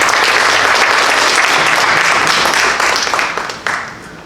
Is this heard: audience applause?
yes